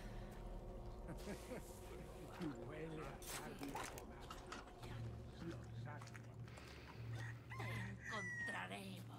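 Chickens cluck intermittently in a Resident Evil 4 village scene, set against a dense game soundscape with a low steady hum and other ambient noise, with speech present throughout.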